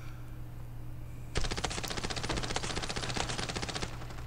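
Rapid sustained automatic fire from a P90 submachine gun in the Standoff 2 mobile shooter, a dense burst of shots starting abruptly and running steadily for about three seconds, close and loud over a low game hum.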